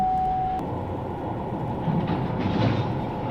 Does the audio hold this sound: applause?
no